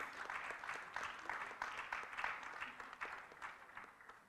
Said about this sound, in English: Can we have a huge round of applause for that wonderful moderation?